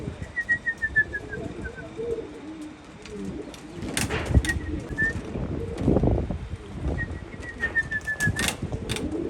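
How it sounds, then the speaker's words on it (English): Pigeons coming home to their loft, with repeated soft cooing and bursts of flapping wings close by, over a busy rustling background and faint chirps. "this exact moment when the pigeons enter their home"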